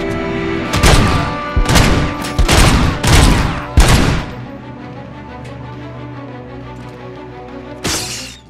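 Heavy gunfire in RoboCop: Rogue City, five loud booming bursts of shots in quick succession, then a lull with low rumble before one more burst near the end.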